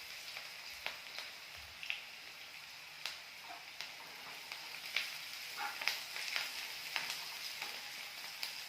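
Curry leaves sizzling and crackling in hot oil in a pan while a vegetable saagu is being cooked, a soft steady frying hiss dotted with small pops, faint and close with no talk.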